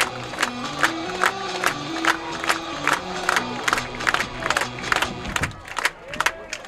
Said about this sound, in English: the crowd is up. They're getting excited here for the kickoff.